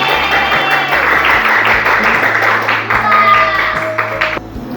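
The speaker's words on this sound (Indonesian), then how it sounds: "tepuk tangan lu buat semuanya ya" Classroom applause from students during a teaching session, brisk clapping over background music with a steady beat.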